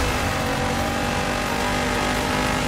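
Virtual Volkswagen Touareg engine revving in the racing game Dirt 5, a steady, dense engine roar held at constant loudness throughout with no speech over it.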